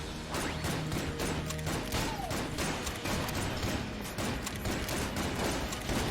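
Old Goldie, a shotgun-style weapon in Enter the Gungeon, fires repeated rapid bursts at a boss, a dense clattering fusillade of shots and impacts over game sounds and music.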